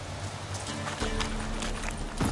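Hooves clip-clop steadily beneath continuous ambient game sound as a horse moves through the Witcher 3 countryside, with a faint snort or whinny near the end.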